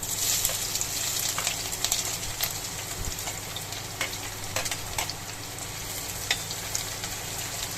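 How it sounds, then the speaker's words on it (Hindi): Onions frying in hot oil for a dhaba-style bhindi masala sabji give off a loud, crackling sizzle with scattered pops and stirring scrapes, close up, with no voices. "सबसे पहले तेल के अंदर हम डाल देंगे अपनी प्याज।"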